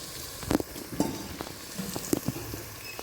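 Cumin seeds and pink salt fry in a pan with a soft, close crackle, while a spoon stirs and taps against the metal in several quick knocks.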